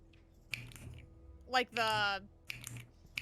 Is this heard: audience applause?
no